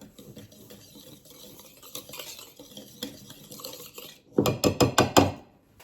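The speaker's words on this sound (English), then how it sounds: "2 teaspoons of baking soda, whisk this up." Salt and baking soda being whisked into freshly milled flour in a bowl, soft brushing strokes at first, then a burst of five or six sharper rhythmic whisk taps against the bowl near the end, close and quiet.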